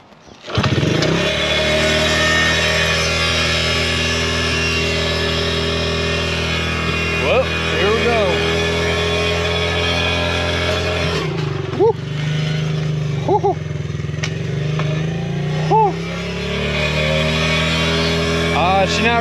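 A Honda CRF 50cc dirt bike engine fires up after fuel and choke are set, then idles steadily and loudly up close with a few sharp revs, while people talk over the running engine.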